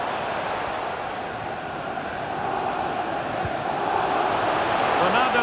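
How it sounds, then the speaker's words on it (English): Stadium crowd in the FC 24 football video game at a Manchester City versus Manchester United Champions League final, a steady dense roar of cheering that swells slightly toward the end, with no voices speaking over it. "The crowd encouraging him to take it on."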